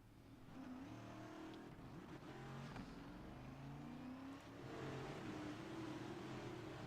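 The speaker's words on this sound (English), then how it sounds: "they're about to fire the engines and start this event" Race car engines fire up and rev at the Richmond NASCAR truck race, a dense layered roar of several motors at moderate distance, rising and falling steadily without talk.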